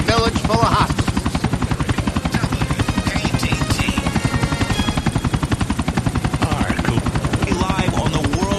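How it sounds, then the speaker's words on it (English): Helicopter in GTA IV flying with a loud, steady rotor chop that pulses rapidly and evenly throughout, with someone talking over the whirring blades. "It sure is great to be driving a chopper for fun rather than to mow down a village full of hospitals."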